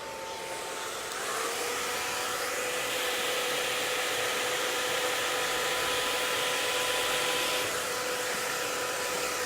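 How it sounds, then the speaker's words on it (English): A hair dryer tension-drying a short bob haircut in a salon, blowing as a steady, loud whooshing drone with a constant motor whine that rises slightly after the first second and holds without a break. "So I'm just now just going to tension dry this area."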